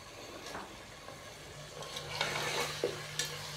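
Beef pulao cooking in a frying pan with tomato, chili powder, salt, yogurt and spices, stirred by hand: soft scraping and stirring strokes over a steady sizzle, with a few brighter clinks of the utensil against the pan near the end.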